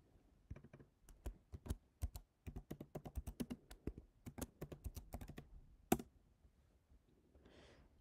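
Keystrokes on a computer keyboard typing out a bank transaction description, a close, steady run of sharp clicks in bursts with short pauses, then a soft breath near the end.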